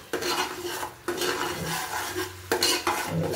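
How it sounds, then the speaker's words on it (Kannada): Onions frying in oil in a pan with turmeric for a village-style mutton head-and-trotters curry, stirred steadily with a metal spoon that scrapes and clinks throughout, with a soft sizzle underneath and brief pauses between strokes. "ಇವಾಗ ಸ್ವಲ್ಪ ಎಣ್ಣೆಯಲ್ಲಿ ಇದನ್ನ ಫ್ರೈ ಮಾಡ್ಕೊಳ್ಳೋಂಗಿದೆ ನೋಡಿ"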